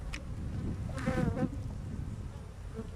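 Honeybees buzz at an opened beehive, a close, steady swarm drone with one bee flying loudly past the listener.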